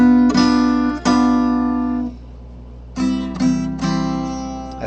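Guitar strumming a half diminished seventh chord, several ringing strums with a pause in the middle, loud and sustained with clear harmonics, no talking.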